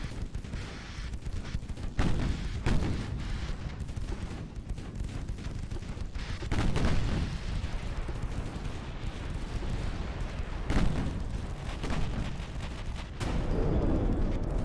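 Naval guns firing armor-piercing shells in the Ultimate Admiral Dreadnoughts video game, battleship against cruiser: repeated heavy booming blasts at irregular intervals over a constant loud rumble of engine and sea, with no talking.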